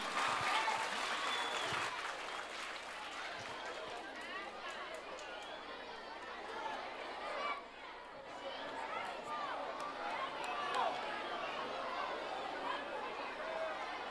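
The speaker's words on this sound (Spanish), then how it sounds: "Un fuerte aplauso para el grado cuarto." A crowd at a school music recital applauds the fourth grade, sustained clapping mixed with chatter, moving children and footsteps, fairly distant, with people talking throughout.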